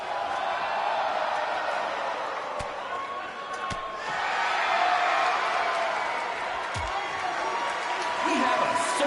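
Crowd roar in a sold-out wrestling video game arena on PS4, a steady broad wash of cheering that swells midway, with a few sharp thuds and voices over it.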